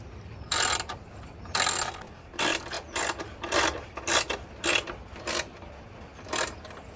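A ratchet wrench clicks in short, repeated bursts while tightening bolts on a Honda Rebel 500 rear rack, about ten close, crisp strokes with brief pauses between them and no talking.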